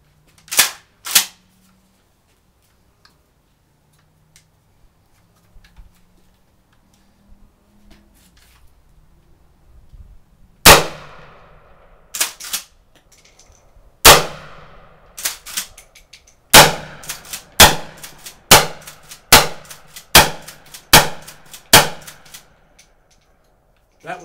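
A Kel-Tec KSG pump shotgun fires mini-shell slugs outdoors: two early sharp reports, a long quiet gap, then a steady series of about a dozen loud, crisp shots at irregular intervals of roughly a second, with faint pumping in between.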